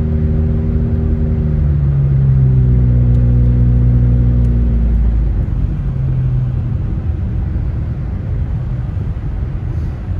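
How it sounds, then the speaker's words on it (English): A car drives along snowy back roads near Big Bear Lake, California, its engine rumbling steadily and close throughout, with a rising tonal drone in the first half that settles into an even road roar. "I'll be driving the back roads all the way home"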